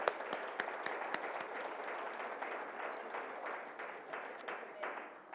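Soft, distant round of applause from a community celebration audience at a Hispanic Heritage Month gathering, a steady even clapping that tapers off.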